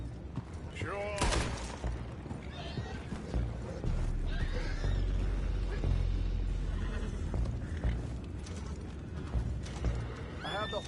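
Horses neigh and whinny in a video game, with sharp whinnies near the start and end over clip-clopping hooves, mechanical clatter and a steady low rumble, and people talking in between.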